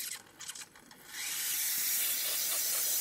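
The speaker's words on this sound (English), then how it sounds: "As you can see right now, really good steam." Steam wand on an Isoma Milano espresso machine blowing steam, a soft hiss that starts after some light handling noises and then holds steady, fairly quiet and close.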